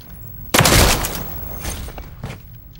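In a hardcore multiplayer shooter video game, a loud burst of gunfire blasts close up, followed by a couple of quicker, fainter shots that echo away over the next two seconds.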